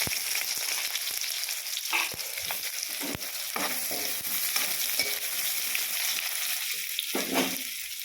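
Onions frying in a pan for a fish curry, giving a steady close sizzle with occasional stirring scrapes throughout.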